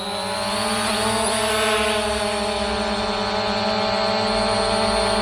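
A ZLRC SG906 Pro 2 quadcopter drone hovers close by with a steady, loud, high-pitched whine from its propellers, the tone wavering slightly as it holds position.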